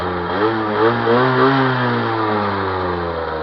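A Derbi DRD X-treme SM motorbike, still being run in, revs close by through its exhaust, the engine note rising and falling in a few smooth blips before settling into a steady mid-pitched hum, with no talk.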